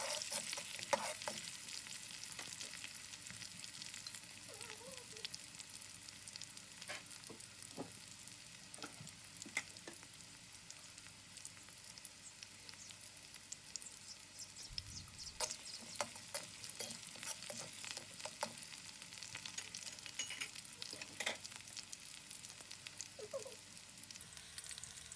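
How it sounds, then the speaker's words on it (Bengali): Chopped onion frying in hot oil with a few cardamom pods, stirred now and then with a spatula, giving a steady hiss with scattered scraping clicks, close and fairly quiet for a village-style chicken curry. "পেঁয়াজটাকে একটু নেড়ে চেড়ে ভেজে নেব।"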